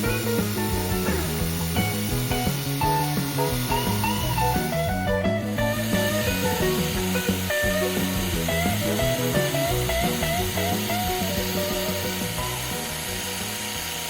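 Continuous gritty scraping of sandpaper on a sonokeling rosewood pipe being shaped, steady and close, with a dense rhythmic rasp that barely changes throughout.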